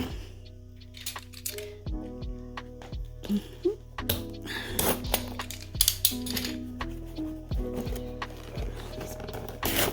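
A newly arrived package being unwrapped close by, with a string of scattered rustles, crinkles and sharp clicks and taps, loud and uneven, with no one talking.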